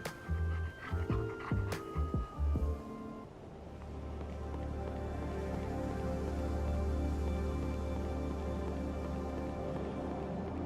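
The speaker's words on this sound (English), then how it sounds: "Can I pet the doggy?" A dog panting in the video game Mato Anomalies, a few game sound effects and chimes at first, then rapid rhythmic close panting continuing steadily and loudly to the end.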